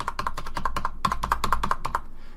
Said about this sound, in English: we're going to move them using the arrow keys